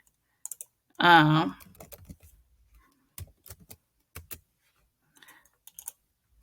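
Several light computer keyboard keystrokes come in sparse clusters, typing a caption, after a brief burst of a voice near the start; the clicks are close and soft with gaps of quiet between them.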